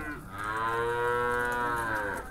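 Cattle at a livestock fair in Campina Grande, Brazil, give one long, loud, close moo from a pen that holds cows with newborn calves.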